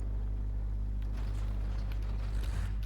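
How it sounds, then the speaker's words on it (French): An allied tank's engine idles in a video game, giving a continuous deep rumble with faint mechanical rattling on top, steady and nearby with no voices. "C'est peut-être un moteur allié que j'entends."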